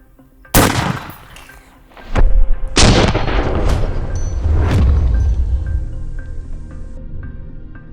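A 10.3-inch Mark 18 rifle fires 55 grain FMJ range ammunition, with a few loud, sharp shots at close range, each trailing into a long reverberant rumble.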